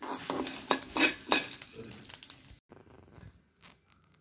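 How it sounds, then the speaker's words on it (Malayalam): Pepper and spice mix being stirred and dry-roasted in a pan: scraping, clinking strokes of a utensil against the metal with a faint sizzle, busy at first and then sparser, with brief pauses. "കുറച്ച് കുരുമുളകും മസാല കൂട്ടും കൂടെ നമുക്ക് വറുത്തെടുത്തിട്ട് വരാം"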